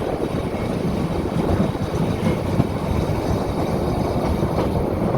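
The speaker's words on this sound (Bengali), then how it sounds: "ট্রেনটা কিভাবে যাচ্ছে আর কত বড়" A moving passenger train on the Dhaka to Cox's Bazar line rumbles steadily from on board, with a constant low clatter and rolling noise and no talking.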